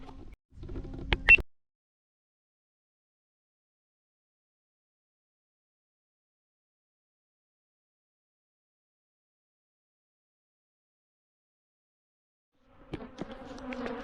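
Angry bees stirred up by a cheap three-gear lawnmower buzz in short close bursts at the start and end, with a long stretch of near silence between.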